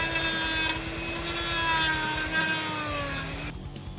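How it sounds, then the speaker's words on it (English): A Dremel sanding wheel grinds steadily against a car head unit bracket, a close, rasping whine with rhythmic scraping strokes that stops abruptly near the end. "get one of the little sanding wheels on there, and I'm just going to sand those areas flat"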